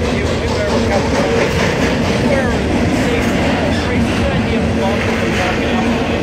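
An eastbound Norfolk Southern double-stack freight train passes on track 2 with a steady, loud roar and rumble of rolling cars and wheels, close by, while people talk over it.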